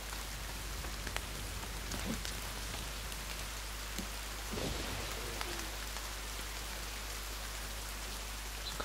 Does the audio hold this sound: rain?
yes